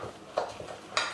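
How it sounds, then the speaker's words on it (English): Choux pastry dough being stirred hard in a pan over medium-high heat, quiet scraping of a spoon against the pan with a couple of brighter clinks, soft and close. "you have to keep stirring the dough very hard, like this"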